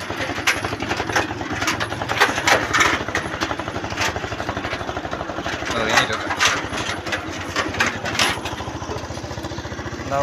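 A 150cc motorcycle engine runs steadily up close, with a continuous throbbing drone that keeps going through the whole stretch while voices murmur faintly underneath.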